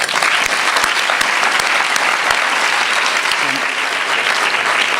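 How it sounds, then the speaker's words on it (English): An audience claps in a steady, full round of applause, dense and sustained from start to finish with a few sharper individual claps standing out. "let's give these wonderful people a tremendous round of applause"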